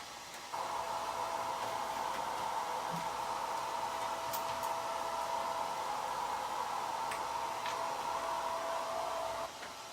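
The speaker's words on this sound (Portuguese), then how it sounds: "o secador é quente e eu não quero amolecer tanto o biscuit" A hair dryer blows a steady airy whoosh onto polymer clay (biscuit) for most of the clip, switching on near the start and off just before the end.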